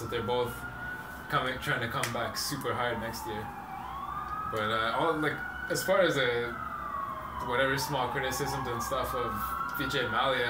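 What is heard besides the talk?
emergency vehicle sirens passing outside in the city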